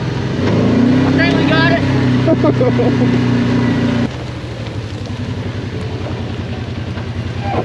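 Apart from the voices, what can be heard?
vehicle driving up snowy hill in two-wheel drive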